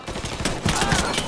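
Rapid bursts of gunfire in the Mafia 3 video game rattle out in a dense, irregular volley, loud and close, with several sharp shots stacked over one another.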